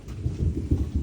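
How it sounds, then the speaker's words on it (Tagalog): Rain falling through a rainstorm with low rumbling, irregular swells that may be distant thunder, steady and fairly close with no voices. "Ayan po, umuulan po ngayon no."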